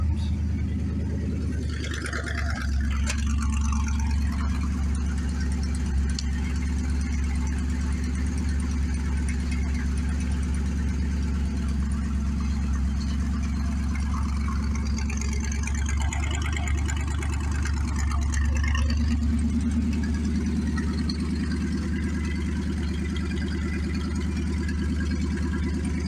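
Foxbody Ford Mustang, which has a 2,500 RPM hesitation problem, idling steadily with a constant low rumble for the whole stretch and no speech.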